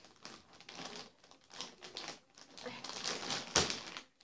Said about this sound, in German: Dann wollen wir das erstmal auspacken.